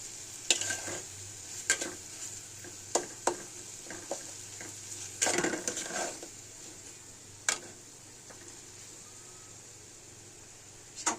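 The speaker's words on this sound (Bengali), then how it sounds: "একটু মশলাটা কষাবো।" Spice paste sizzles as it is sautéed in a pan. A soft, steady frying hiss runs beneath scattered clicks and scrapes of a utensil stirring against the pan, all fairly quiet and close.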